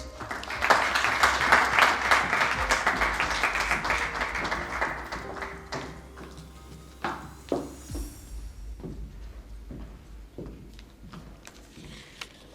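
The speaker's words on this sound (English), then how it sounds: "can you please give her a round of applause as she comes on stage?" An audience at the 2021 South Africa AGOA Awards applauds as a speaker comes on stage. The dense clapping fills the first half and then thins to scattered claps before fading.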